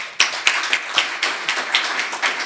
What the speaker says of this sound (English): So I'd like to ask the audience to give a round of applause to our two wonderful panelists